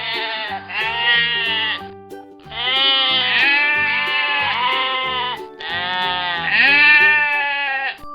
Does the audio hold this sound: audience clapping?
no